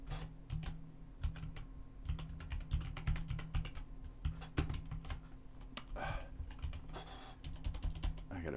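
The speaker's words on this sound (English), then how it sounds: "I'm wiggling on this keyboard." Rapid, irregular typing on a computer keyboard during a livestream, close and clattery, with bursts of keystrokes continuing throughout and a low hum underneath.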